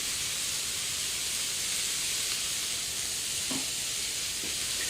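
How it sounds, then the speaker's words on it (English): A hot pan still sizzles after frying mackerel burgers, a steady broadband hiss that carries on with no pause, broken only by a few faint clicks and taps. "You can still hear the pan going"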